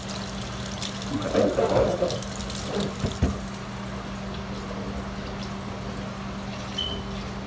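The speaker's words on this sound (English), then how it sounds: "I'm trying to get this cold water in here." Cold water from a tap running into a container already holding ice, a steady close splashing stream swelling briefly in the middle, with a person talking over it.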